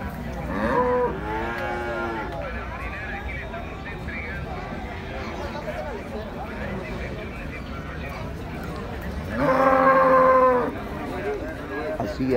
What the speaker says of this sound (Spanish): Mire esta bonita y hermosa vaca sarda que estamos en este momento aquí.